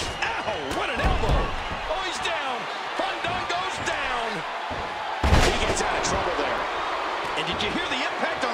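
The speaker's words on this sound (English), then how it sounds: "Did you hear the impact on that kick?" Heavy thuds of kicks and impacts in the WWE 2K14 wrestling video game, repeated slams over a continuous crowd roar with commentary voices talking throughout.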